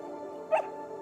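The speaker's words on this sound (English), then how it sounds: "Let me pet that dog." A dog in the video game Neva gives a single short bark or yip, close and clear over a quiet, steady game background.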